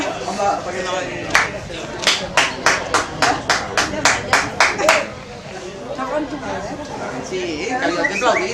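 At a sports match, a crowd of spectators gives about a dozen loud, evenly spaced rhythmic claps. Steady chatter and shouting run underneath and continue after the clapping stops.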